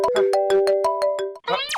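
A phone ringtone plays a bright repeating melody of short tones for over a second, loud and close, followed by a brief rising chirp.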